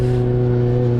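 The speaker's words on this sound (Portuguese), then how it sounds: "motor começou a fazer barulho estranho, começou a dar umas batidas" A Yamaha XJ6 motorcycle engine with a strange knocking fault runs with a loud, steady idle drone, a close mechanical hum holding several even tones for about a second.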